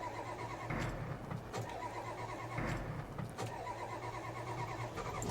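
An old diesel farm truck, left sitting for over 25 years, cranks over in a steady rough mechanical churn with a few heavier surges, heard close and alone with no voices.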